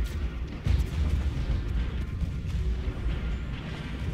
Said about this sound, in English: the initial barrage of like long range artillery is beautiful